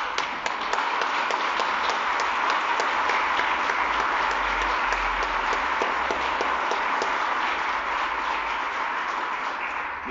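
A congregation applauding during a Catholic Mass, with dense, steady clapping from many hands that carries on for about ten seconds in a reverberant church, with no speech over it.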